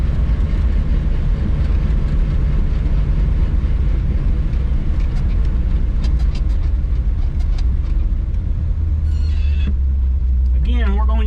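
A two-speed-axle log truck with an Eaton Fuller transmission, running empty, rumbles steadily and loudly in the cab as it pulls off in second gear, the drone shifting pitch near the end while someone talks over it.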